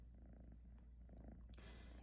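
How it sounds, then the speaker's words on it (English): A kitten purrs right beside a phone, a faint, steady low rumble that runs continuously with no one speaking. "my kitten is right next to the phone and she's purring. She sounds like a little motorboat."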